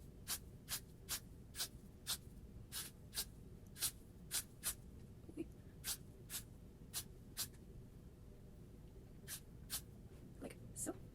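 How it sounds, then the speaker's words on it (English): Hairspray is sprayed onto hair in a quick run of short, evenly spaced hissing bursts, about twenty in all, fairly quiet and close, over a low background. "let me do what do and put on some hairspray"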